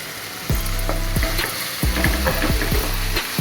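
Green chili and tomato frying in a hot pan while cooking muttai kothu parotta, a steady close sizzle broken by several sharp scraping stirs of a spatula against the metal.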